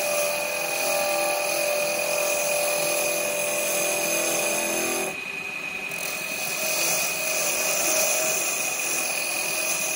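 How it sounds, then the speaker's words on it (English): A bowl gouge cuts wood on a lathe while a small pot is turned, giving a steady, loud rasping hiss that runs unbroken with a brief dip midway. "I can do the same cut with a bowl gouge"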